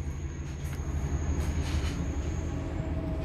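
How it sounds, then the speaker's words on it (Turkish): A train passes close by, a steady rumbling roar of wheels and carriages with a faint high whine running along it, no voices. "Tren geçti."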